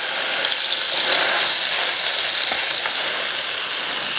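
Hamburger steaks sizzle loudly in a frying pan, a dense, steady hiss of fat and juices heard up close with no talking over it.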